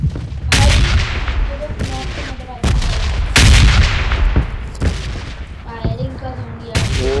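Gunfire in the mobile battle-royale game PUBG Mobile crackles in loud, repeated sharp bursts and booming shots at irregular intervals, with some voice chatter faintly mixed in.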